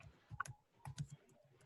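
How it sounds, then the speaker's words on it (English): Computer keyboard typing during an online chess class, heard as a few scattered clusters of soft, close clicks and taps with quiet pauses between them, no voices over it. "I'm just typing."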